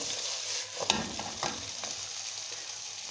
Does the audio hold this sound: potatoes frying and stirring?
yes